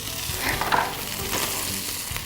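An omelet frying in a pan gives a close, continuous sizzle with light crackling that stays even for a couple of seconds, with no talking.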